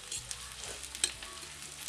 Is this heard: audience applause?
no